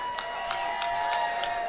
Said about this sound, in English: So give yourselves a round of applause right now.